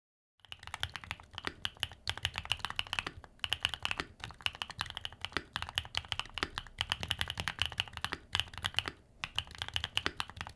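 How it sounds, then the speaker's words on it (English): Fast, steady typing on a SIN65 mechanical keyboard fills the clip with close, crisp clacks in a continuous rhythm and a few brief pauses. "Let's have a listen to what the keyboard sounds like."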